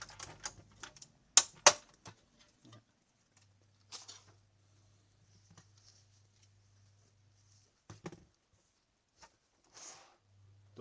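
Canon G series printer with dry, ungreased gears, giving irregular clicks, ticks and rattles, some in quick bursts, with a faint steady hum through the middle and long quiet gaps between sounds.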